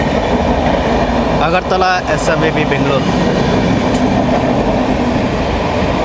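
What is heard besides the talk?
express train at Gudur Junction station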